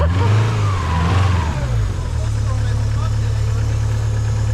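A Subaru engine with a swapped exhaust revs up and then settles into a steady idle rumble, with brief voices near the start.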